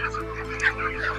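Thirty-five-day-old chickens on a poultry farm cluck and call in a continuous busy chorus over a steady low mechanical hum, with faint talk mixed in.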